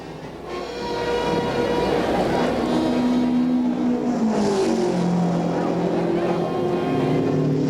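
A 1962 Indianapolis race car lapping at speed during qualifying, its engine note sustained and droning, shifting in pitch as it passes, loud and continuous over the track ambience.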